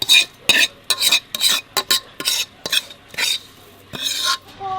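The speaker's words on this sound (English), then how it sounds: "ผัดให้หอม" Homegrown garlic stir-fried in a pan: a run of bright, scraping spatula strokes against the metal, about a dozen quick irregular bursts under a soft sizzle, close and alone.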